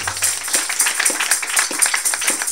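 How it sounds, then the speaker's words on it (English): Church congregation clapping together in a steady, dense run of claps, loud and close, filling the whole stretch with no talk over it. "Give a clap of it to Jesus."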